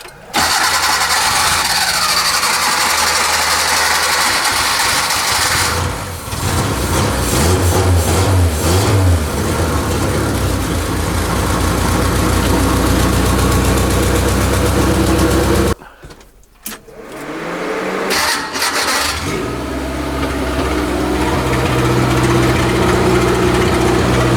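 A Kei truck engine cranks and catches after being choked, then runs loud and close with rough revving and idling, briefly cutting out midway before restarting and running on.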